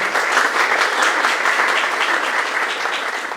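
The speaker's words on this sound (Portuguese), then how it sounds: "Eu quero uma salva de palmas para ela." An event audience gives a sustained round of applause for the organizer, a dense and even wash of many hands clapping at close range, steady throughout with no voices over it.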